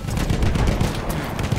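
Sniper gunfire in a Battlefield 1 multiplayer match on PC, a dense burst of sharp game gunshots and booming reports packed into a second and a half, loud and close, with no voices over it.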